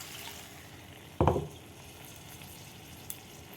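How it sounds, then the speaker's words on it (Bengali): Water used to wash spices hits a hot pan at a home breakfast cooking session, giving one sharp, loud burst of sizzle that fades within a fraction of a second over a low background frying hiss, with a small tick later. "এবার দিয়ে দেবো মশলা ধোয়া জলটা।"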